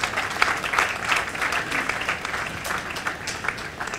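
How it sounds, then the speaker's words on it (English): Applause from the audience for the prize winners at an Indian Independence Day celebration held at an embassy residence, a steady, dense clapping that fills the whole span at even strength. "A big round of applause, please."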